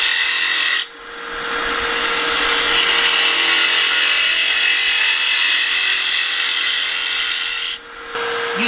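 Turning tool scraping and cutting a spinning wood spindle on a lathe, giving a continuous loud hiss over the steady motor hum, with brief breaks near the start and end as the tool lifts away.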